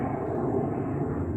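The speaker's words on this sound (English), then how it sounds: "sorry about the airplane sound" Airplane passing overhead outdoors near a saltwater pool generator being repaired, a steady broad low engine rumble that stays fairly faint and constant throughout with no talk over it.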